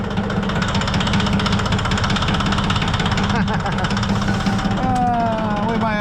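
A small tractor engine runs steadily, loud and close, a constant low rumble with a rising whine near the end, while a person talks over it.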